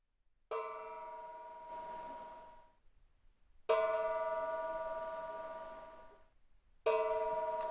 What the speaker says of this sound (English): I'll kindly invite, of course, Mr. Eberens, who will have to hit the gong 3 times